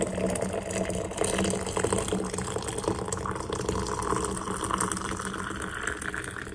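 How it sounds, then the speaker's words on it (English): Hot water pouring steadily over herbs into a jar, a continuous splashing gush with no talking. "we're going to pour the hot water over the herbs"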